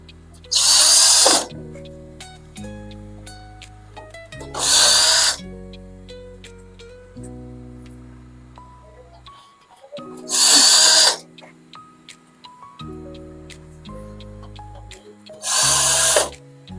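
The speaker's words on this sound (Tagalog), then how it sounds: "una natin screw yung likuran" A power drill drives screws into a baby blue steel drawer cabinet during assembly, four loud whirring bursts of about a second each, well spaced, over a soft background of quiet music.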